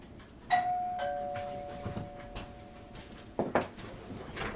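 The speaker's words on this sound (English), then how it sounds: "my doorbell just rang" A two-tone doorbell chime rings once, its tone lingering and fading, followed by faint clicks and knocks in a quiet room.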